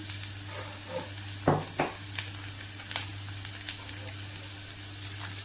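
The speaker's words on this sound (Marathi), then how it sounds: "आता याच्यात स्वीट कॉर्न टाकले" Sweet corn kernels dropped into a hot pan for a leftover chapati breakfast, a steady close sizzle with a couple of louder bursts as the corn lands, then continuing crackle with no talking.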